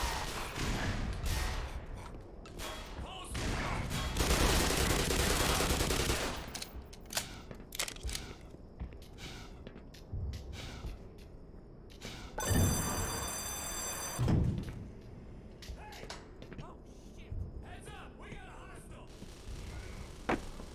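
Bursts of gunfire in the Black Mesa video game, a heavy sustained volley early on followed by scattered shots and thuds at moderate distance, with voices talking over parts of it.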